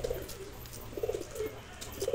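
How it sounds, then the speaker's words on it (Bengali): A pair of Murshidabadi pigeons in a pigeon loft coo in soft, repeated low throaty bursts, several in a row, close by over a faint steady background hiss. "একটা জোড়া পায়রা মুর্শিদাবাদী দেখাচ্ছি, দেখুন।"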